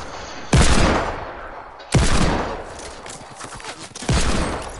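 Three loud gunshots from an online shooter game, each a sharp near blast with a decaying tail, spaced roughly a second and a half apart and heard alone without talk.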